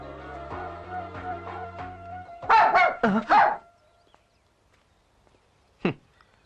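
A dog gives a quick cluster of loud barks right after a stretch of music, then one more bark a moment later against near silence.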